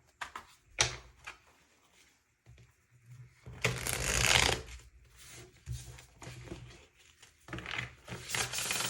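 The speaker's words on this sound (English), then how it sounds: "I want to pull some tarot cards as well" Tarot cards being shuffled by hand in close, quiet bursts of papery riffling and sliding, with pauses between the flurries.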